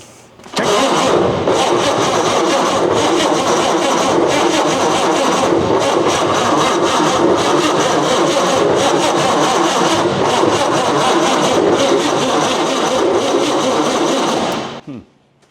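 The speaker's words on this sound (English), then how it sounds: "I feel it's not cranking very fast, but these things didn't crank very fast in the day." A Pontiac's engine cranks steadily and slowly for about fourteen seconds at close range, a loud continuous churning that cuts off abruptly without catching.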